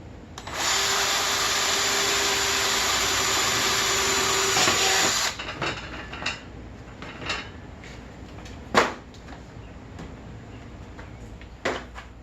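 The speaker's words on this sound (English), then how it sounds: "First thing I'm going to do, drill the corners." Power drill with a half-inch bit boring into the corner of a plastic container, a loud steady whirring drone for about five seconds, then it stops and is followed by scattered clicks, taps and handling knocks.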